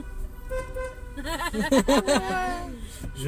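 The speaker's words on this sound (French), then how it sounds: "Il est mignon, le klaxon de Vincent" Vincent's car horn sounds a rapid series of short, bright toots in the middle, with a voice chattering and laughing over them.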